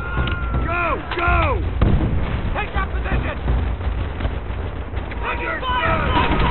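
Artillery fire in the video game Call of Duty: World at War, during the Pacific beach assault mission "Hard Landing", booms continuously and loudly amid gunfire, with soldiers shouting over the barrage throughout.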